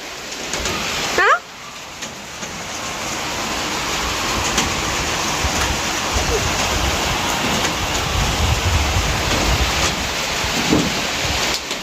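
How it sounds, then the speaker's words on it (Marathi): Rain falling steadily outdoors, heard from a balcony as a dense, continuous broadband hiss that stays loud and close throughout, with a brief knock near the start. "पाऊस आला तुला आवडतं ना पाऊस"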